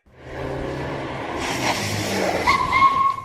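An expensive car drives up, its engine rising steadily to a near roar, then tires give a sharp squeal as it pulls in, loud and close with no voices.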